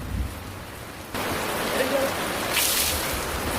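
Rain falls steadily as a dense, even hiss that grows louder after the first second and continues to the end.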